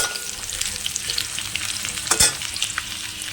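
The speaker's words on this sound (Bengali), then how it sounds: "সেই কড়াইয়ে আলুটা ভেজে নিচ্ছি ভালো করে" Potato pieces frying in leftover fish oil in a kadai, a continuous loud close sizzle with bright crackling spatter, one sharper burst of spitting oil partway through as the pieces are stirred.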